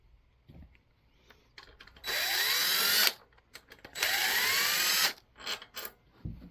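Power tool backing out studs on an old generator: two sustained bursts of about a second each with rising whine, separated by short clanks and handling noises, close and loud with no talk.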